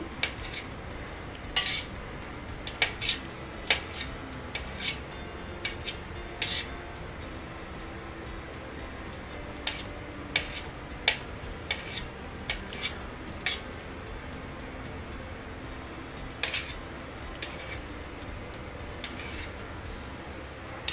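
A knife cuts onion into thin, long strips on a board, giving repeated sharp, close taps and chops at an uneven rhythm over a quiet background, with no one talking.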